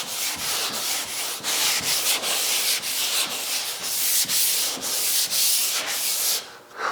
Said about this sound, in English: Figured I'd get a little block sanding in while I was waiting for you guys to arrive.